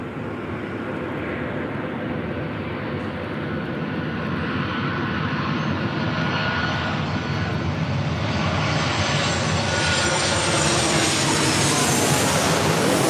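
Airliner, a 737-type jet, landing on runway 24 left at LAX, its engines roaring loud and steady with a rising whine, growing slightly louder as it nears, no voices.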